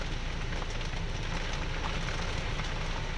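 Heavy steady rain falls near a waterfall on a road from Kuttikanam toward Panchalimedu, a dense continuous hiss and patter with no break or voices.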